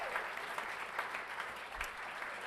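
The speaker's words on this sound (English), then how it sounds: "Let's have one more round of applause for Lincoln Elementary School." A round of applause for Lincoln Elementary School at a school district governing board meeting, a steady wash of many hands clapping, fairly quiet and somewhat distant.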